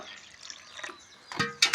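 Water poured into soaking rice for head-meat dum biryani, heard as a short, close trickle and splash that builds in a few quick bursts toward the end.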